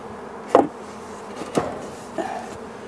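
Honey bees buzzing around a hive on a warm late-winter day, heard as a few short, close buzzing passes separated by quiet, fairly faint background hum.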